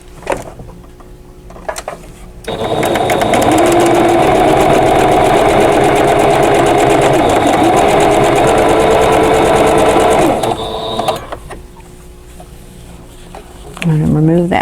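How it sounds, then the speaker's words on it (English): A sewing machine runs a steady, loud stitching burst of about eight seconds along a quarter-inch seam on a vintage quilt block, with quieter handling sounds before and after. "now I'm going to sew a 1/4 inch away from both sides of this drawn line."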